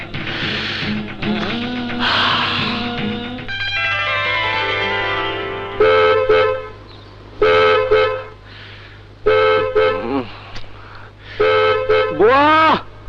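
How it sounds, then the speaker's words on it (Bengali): A car horn honks outside a house in a Bangla movie scene, sounding in several sharp, repeated blasts over background music, with some voices earlier. "বুয়া দেখো না কে হর্ন বাজাচ্ছে"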